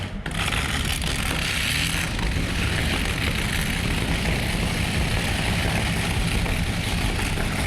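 A 6,000 horsepower pulling tractor engine fires up at a truck and tractor pulling competition, a sudden start followed by a sustained, heavy, roaring drone that stays loud and steady throughout.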